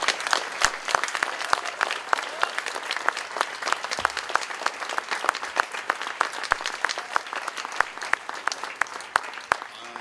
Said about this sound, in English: A round of applause and welcome.